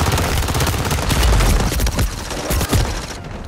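Rapid, loud bursts of automatic gunfire in the Call of Duty video game, dense overlapping shots with booming low end filling the whole stretch, easing off near the end.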